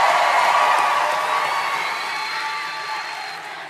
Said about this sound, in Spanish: yo quiero pedir otro aplauso para Schaefer, por favor